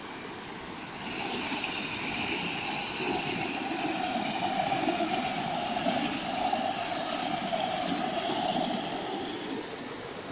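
A stream flows beneath a small footbridge in the hills of Megamalai, Theni, with a continuous close rushing and gurgling of water that holds steady throughout, with no voices.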